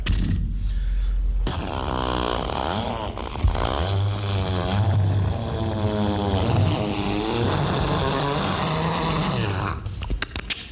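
A man vocally imitates a chainsaw starting up and a tree falling, a growling, sputtering rasp that revs and wavers for several seconds, loud and close, then trails off.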